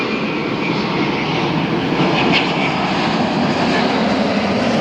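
Steady, loud jet engine roar from a Norse Atlantic Boeing 787 Dreamliner at LAX, a broad rushing drone holding constant throughout without speech.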